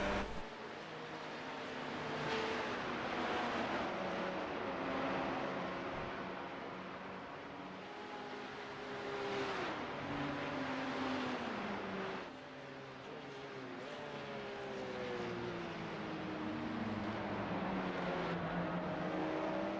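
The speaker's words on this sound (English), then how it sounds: "there comes the Cup 2 category Porsche, and there's an SP10 Porsche as well" Porsche race cars of the Cup 2 and SP10 classes roar past in a sim racing game. Several engine notes rise and fall in overlapping sweeps, some drawing near and then fading, against a constant background whir.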